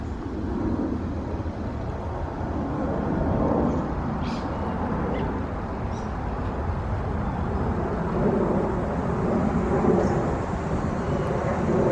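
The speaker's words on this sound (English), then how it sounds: "there's literally a plane overhead." An airplane passes overhead outdoors in a quiet backyard garden, a loud, steady broadband roar filling the whole stretch with only faint high chirps above it.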